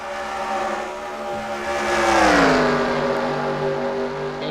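Race car engines scream past on a track, with one car running on fresher tires, a loud sustained roar whose pitch swoops down as it passes close by, alone without talk.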